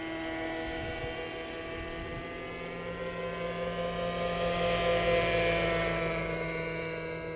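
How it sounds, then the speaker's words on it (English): A faint, steady whine of a small radio-controlled helicopter hovering at a distance, rising slightly in intensity midway, with no talking. "Quite a chopper, eh?"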